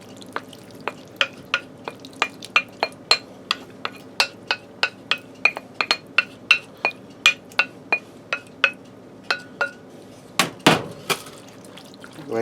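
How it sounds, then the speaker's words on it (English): A broccoli and ham soup mixture is spooned out over a layer of tater tots with a steady series of crisp scraping clicks at a regular pace. A louder clatter comes near the end, and no one talks. "I'm going to dump our broccoli and ham soup mixture over top."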